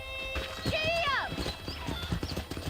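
A video game horse gallops with rapid, rhythmic hoofbeats and lets out a shrill whinny near the start, close and fairly loud throughout.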